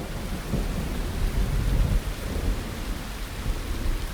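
Thunderstorm with steady rain in Surat Thani, Thailand, during the rainy season: dense rainfall hiss throughout with low rolling thunder rumbling up near the middle, loud and close, no voices.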